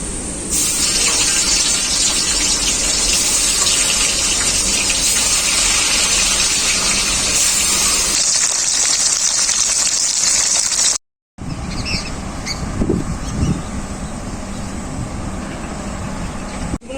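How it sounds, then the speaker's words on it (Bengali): Fish fries in hot oil in a pan, a loud, dense, continuous sizzling hiss that cuts out briefly and returns with bubbling and popping, close up with no voices. "বাকি মাছগুলো আমি একইভাবে ভেজে নেব"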